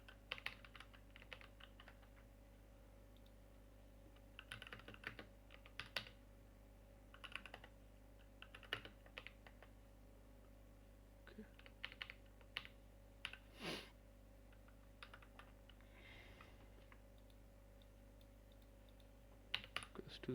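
Code being typed on a computer keyboard during a C programming session: scattered bursts of light key clicks with short pauses between runs, steady and close over a faint background hum.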